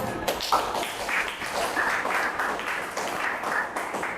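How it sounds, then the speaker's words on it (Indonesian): Classmates in a school classroom applaud, a loose patter of hand claps with scattered sharp taps, moderately loud and continuous for a few seconds with a little talk. "Tepuk tangan dong, teman."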